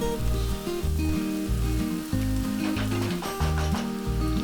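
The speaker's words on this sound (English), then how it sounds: "add 1 onion and fry it until the onion is nice and soft" Onion frying with garlic and chili in a pan, a steady close sizzle running the whole time beneath music, with no talk.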